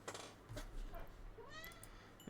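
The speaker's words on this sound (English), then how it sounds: "So you're all just hearing meow, meow, meow, meow." A pet cat meows faintly in a quiet room during a Minecraft stream, several soft, drawn-out calls spread across the moment, the last one slightly louder near the end.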